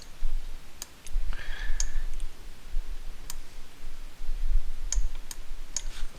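Sparse, crisp key presses on a computer keyboard during Blender modeling work, a handful of separate clicks at uneven intervals over quiet room noise.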